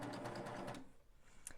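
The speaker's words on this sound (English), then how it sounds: "So I'm going to go ahead and I'm going to start stitching." Babylock serger running a 2-thread flatlock stitch through knit fabric, a steady fast mechanical whir for about a second that then drops away, close and fairly quiet.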